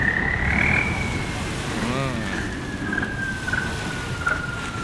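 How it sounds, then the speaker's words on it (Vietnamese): A boat's exhaust on a river near a giant barge lets out a long, horn-like whooping tone that rises, wavers and trails off, over a constant background rumble. "Ghe này tục bô hú nghe đã quá ta."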